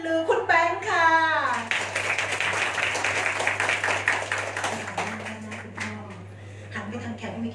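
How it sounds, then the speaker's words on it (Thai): Wedding guests at a Thai engagement procession in Kanchanaburi break into sustained clapping to welcome the groom, a dense patter lasting a few seconds between stretches of someone speaking over a microphone. "เราจะปรบมือดังๆต้อนรับสุภาพบุรุษลูกผู้ชายเจ้าบ่าว"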